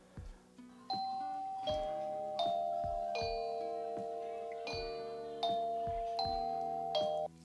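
A Ring plug-in chime doorbell rings indoors, sounding a series of clear, bright two-tone ding-dong chimes in a repeating melodic pattern, each note ringing out and decaying, loud and close with no talking.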